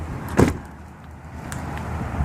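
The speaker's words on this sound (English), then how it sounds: "Shut this door here." A door on a 2007 Buick Terraza wheelchair-accessible minivan slams shut outdoors on a hot day, one short, solid thud up close followed by quiet outdoor ambience.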